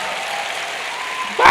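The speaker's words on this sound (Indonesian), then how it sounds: "Tepuk tangan lebih meriah buat Tuhan" A church congregation applauds for God, a dense, loud wash of many hands clapping together that swells into a stronger burst at the end.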